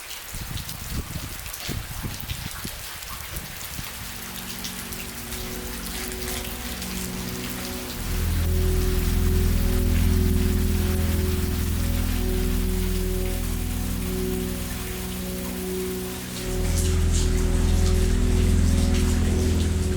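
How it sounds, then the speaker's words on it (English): Steady rain pours down on a roadside shelter along the Eurovelo 9 cycling route in Austria, a loud continuous wash of drops with a deeper rumbling layer that swells in the middle and again near the end. "When it calmed down, I went back on the road. Still raining."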